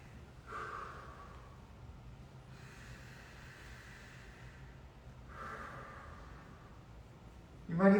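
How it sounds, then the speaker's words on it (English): Slow breaths drawn in through the nose during a relaxed stretching session, three soft airy inhales spaced a few seconds apart against quiet room tone, with a sharper sound right at the end. "Breathe in through the nose."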